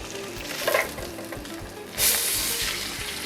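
Ahi tuna fish with a pesto crust sizzles loudly in a hot pan just after being flipped, a steady close crackling hiss that swells briefly as the fish settles.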